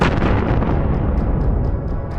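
Heavy, continuous booming and rumbling, loud and dense, like shells bursting close by.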